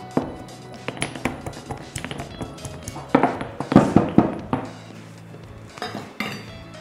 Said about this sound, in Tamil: அடுத்ததாக நம்ம கிரில் பண்ணி எடுத்துருக்க மோர் மிளகாயையும் நல்லா பவுடராக இடித்து எடுத்துக்கலாம்